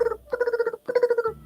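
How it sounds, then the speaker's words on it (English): A cat purrs loudly and close, rhythmic pulsing rattles with a whistly, tonal edge, pausing briefly in the middle. "I love the cat purr when they purr and they whistle."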